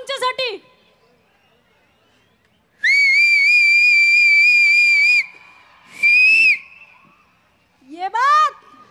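A woman performer on stage lets out loud, sustained whistles: one long steady blast, then a shorter one, with brief rising whistle calls at the start and end and quiet gaps between.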